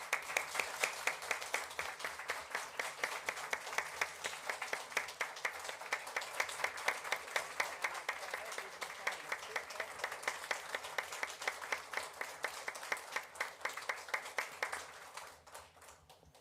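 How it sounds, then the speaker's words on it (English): An audience at a city council meeting applauds steadily for about fifteen seconds, dense continuous clapping that fades out near the end. "Give him a round of applause."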